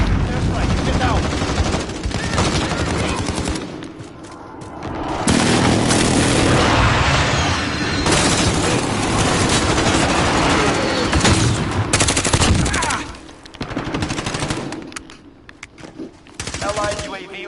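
Airstrike explosions and rapid gunfire in a PS4 first-person shooter, loud and dense with heavy booms and bursts of automatic fire over nearly continuous battle noise.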